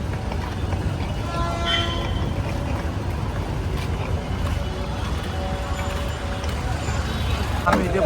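Busy platform ambience at Tirupati railway station with a rumbling train, crowd chatter and a distant horn toot, people talking throughout.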